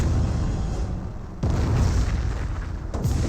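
Nebelwerfer rocket barrage in the Company of Heroes strategy game, heard as a continuous loud rumble of explosions with a sharp new blast about midway and another near the end.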